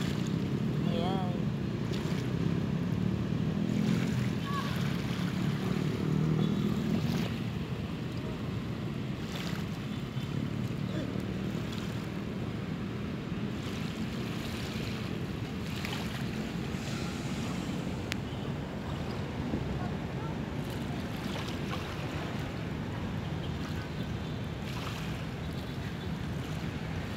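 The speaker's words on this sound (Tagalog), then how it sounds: "Sarap pakinggan yung tunog ng alon" Ocean waves wash onto a beach at Manila Bay in a continuous rushing surge, with wind noise and occasional voices in the background.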